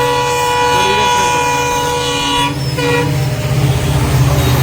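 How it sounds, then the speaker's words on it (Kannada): A train passes close by with a loud, steady rumble of wheels on rail, a horn toot sounding partway through, and the roar swelling louder toward the end. "ಈ ಇದೇಗೊಂದು ಟ್ರೈನ್ ಹೋಯ್ತು"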